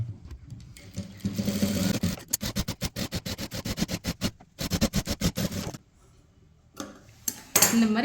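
Sewing machine top-stitching the neckline of a blouse, loud close bursts of rapid needle strokes, starting and stopping several times.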